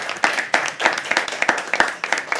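A poetry open mic audience claps again, close and lively applause with distinct individual hand claps and a steady, uneven rhythm.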